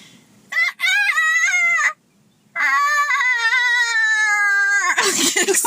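A rooster crows loudly and close by, two long strained calls separated by a short pause, the second drawn out before trailing into noise.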